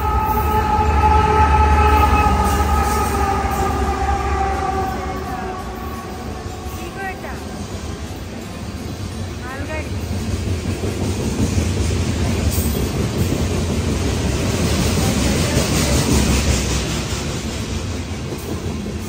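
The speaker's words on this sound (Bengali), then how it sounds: "এখানে ট্রেন যাচ্ছে।" A train rolls past nearby in Canada, its rumble and clickety-clack of wheels swelling and fading, with a brief wheel squeal; a person talks over it.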